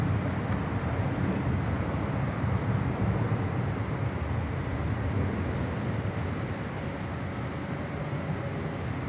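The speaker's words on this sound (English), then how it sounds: "This is Air Canada 774 departing to Montreal on an A330-300." An Air Canada Airbus A330-300 departs Los Angeles International Airport, giving a loud, steady broadband jet roar that fills the whole stretch and fades slightly toward the end, with no talking.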